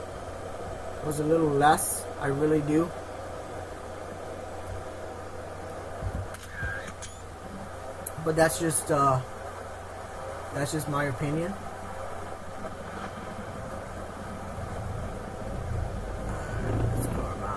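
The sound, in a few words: truck engine idling in American Truck Simulator video game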